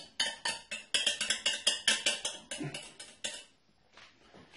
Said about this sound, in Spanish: hay que unir la mezcla y mezclar con movimientos envolventes